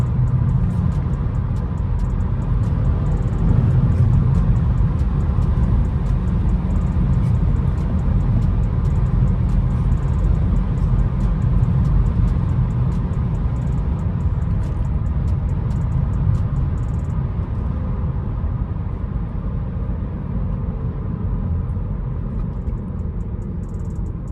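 A BMW 320i M Sport on a late-night city drive gives a steady, loud engine and road rumble from inside the cabin, continuous and unbroken, with no voices over it.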